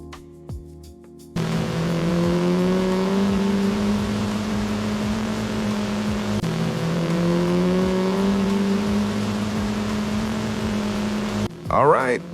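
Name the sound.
AI-generated motorbike engine speeding in rain, Kling 2.6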